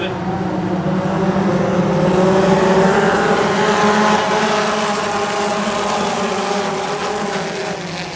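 Midget race cars running on the track at Drummond, a loud sustained engine drone that swells and eases as the pack goes by, with an announcer's voice faintly underneath.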